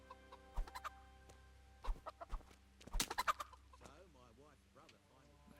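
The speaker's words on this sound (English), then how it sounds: "Chickens." Chickens cluck in the video game Kingdom Come: Deliverance, several short clucks and squawks spread through the moment, with a person briefly talking over them.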